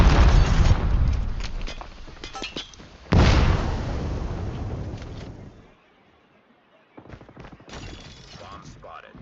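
A C4 blast in an online shooter game: two loud, booming explosions with heavy low rumble, the second sharper and decaying into near silence, then scattered game noise returns.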